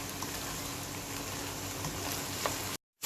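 Chicken, green chilies and vegetables stir-frying over medium-high heat in a pan, a steady quiet sizzle with faint scrapes of stirring, then a brief silent break near the end.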